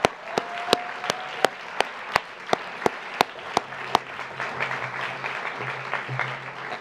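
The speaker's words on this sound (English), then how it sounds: "can we have another round of applause just for both teams" An audience claps for both teams at a debate event, a fairly sparse, rhythmic run of single sharp claps that loosens into softer scattered clapping with a faint murmur beneath.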